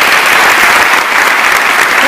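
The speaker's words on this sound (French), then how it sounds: "Je vous demande de l'applaudir." Dense, loud applause from a large audience at a national entrepreneurship day speech, continuous rapid clapping filling the whole stretch without pause.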